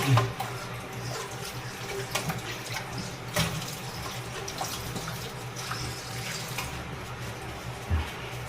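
Water runs steadily from a tap with a constant splashing hiss, punctuated by occasional clunks and knocks nearby.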